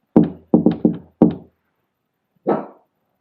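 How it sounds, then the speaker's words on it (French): A household dog gives a single sharp bark after a close, quick series of knocks on the house during a paranormal investigation. "Le chien, il croit que je toque à la maison"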